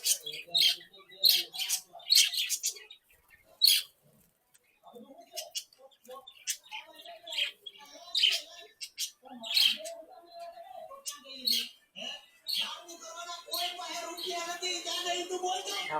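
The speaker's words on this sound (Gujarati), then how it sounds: "મારા બજરી પોપટ," Pet budgerigar parrots kept on the floor of a family house chirp and chatter in quick, bright bursts through the whole stretch, fairly close, ending in a denser, busier flurry of calls.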